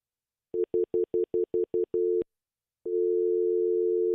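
A telephone handset gives a run of short, evenly spaced beeps, then a brief gap, then a steady continuous dial tone.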